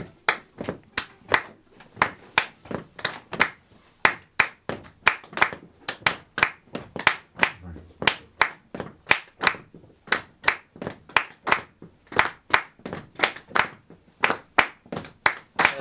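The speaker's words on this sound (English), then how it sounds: "and then we're gonna clap a rhythm" A group claps a steady rhythm together in a music improvisation workshop, crisp hand claps repeating about twice per second for the whole stretch, close and fairly loud with no talking.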